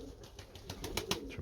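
Pigeons kept by a breeder coo softly, with a faint rumble and a few rustling pulses that may be wing movement. The sound is brief and quiet.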